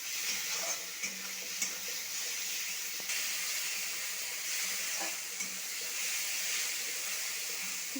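Spice paste with Kashmiri chilli powder frying in oil for chicken, a steady close sizzle and hiss with occasional soft stirring scrapes.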